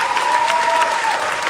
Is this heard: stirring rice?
no